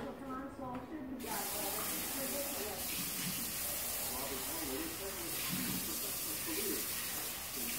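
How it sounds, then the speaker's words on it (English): Cold water streams steadily from a tap into a pot of pasta with a constant hissing rush, and a voice speaks faintly underneath. "I'm going to cover that with cold water."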